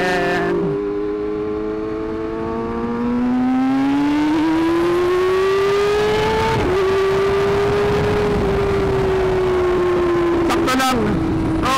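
A Kawasaki ZX6R sport bike pulls hard in second gear, its engine note climbing steadily in a loud, close, sustained howl, with a brief click and shift-like break near the end.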